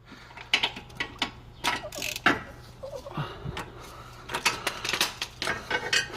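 A ratchet clicks as the engine of a 2013 Honda Accord is turned back by hand during a timing belt job, giving close, uneven bursts of metallic ratcheting and clunks over a low background hum.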